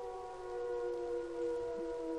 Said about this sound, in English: Actually got close enough to trigger our sirens, which are in that house there